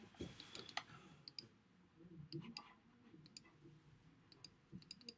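Sharp mouse clicks tap out in short scattered bursts during software editing, some doubled, close and crisp over a low murmur of room noise and faint background voice.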